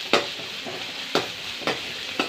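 Onions frying for mutton kuzhambu, a soft continuous sizzle broken by four sharp scraping stirs of the spoon against the pan, close up, with no one speaking.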